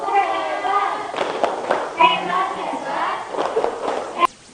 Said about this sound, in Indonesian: tepuk hebat buat Ratu